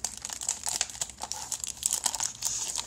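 Plastic packaging around a Samsung Galaxy S3 phone cover crinkles and rips close up, a quiet run of dense crackling and tearing bursts with no talking.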